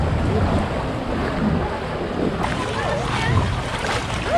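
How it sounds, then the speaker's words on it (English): Lazy river water at Volcano Bay water park in Florida, a steady wash of moving water with gusty wind buffeting the microphone, continuous and close throughout. "Just getting in the lazy river now,"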